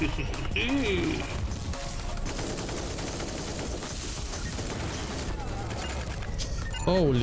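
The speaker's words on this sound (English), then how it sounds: "The explosion of the shield destroyed me." A shield explodes mid-fight in the co-op shooter platformer Echo Point Nova, a dense roar of blasts and rapid gunfire-like bursts filling the whole stretch, loud and continuous, with a player's voice talking over the chaos.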